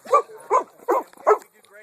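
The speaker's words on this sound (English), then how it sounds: "never mind the dog barking, that's okay" A dog barks four times in an even rhythm, each bark sharp and close, with short quiet gaps between them and no talking over it.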